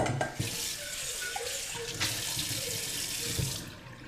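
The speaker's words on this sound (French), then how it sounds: "on a nos amandes qui ont baigné toute la nuit dans l'eau. Donc là, juste on vide l'eau." Soaking water pours out of a container of almonds left in water overnight, giving a steady splashing rush into a sink that fades toward the end, with a few small clunks under it.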